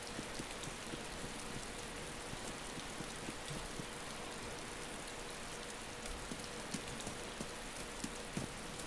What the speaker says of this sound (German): Hört jetzt auf zu regnen.